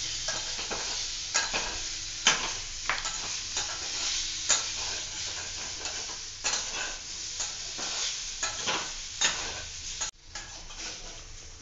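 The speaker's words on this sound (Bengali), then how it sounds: "আলু ভাজা হয়ে গেছে।" Parboiled potatoes fry in a pan for paneer aloo dalna, a constant close sizzle broken by repeated scraping stirs and clicks from a spatula.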